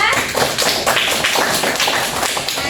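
A mathematics class applauds a student group, producing a short burst of brisk, overlapping hand claps in a classroom with a few voices underneath.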